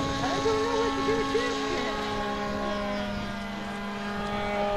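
A radio-controlled float plane taxiing out on water at an RC club fly-in, its small engine giving a steady buzzing drone with a shifting pitch, while people talk nearby.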